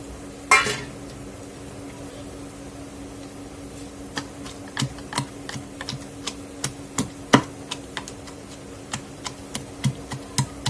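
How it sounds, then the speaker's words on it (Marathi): Tomato crushed with green chili and garlic for thecha, a string of sharp tapping pounding knocks repeating at a steady rhythm after a brief louder clatter, close and fairly quiet. "आपण ह्यामध्ये टोमॅटोही घालून घेणार आहोत आणि त्यालाही ठेचून घेणार आहोत"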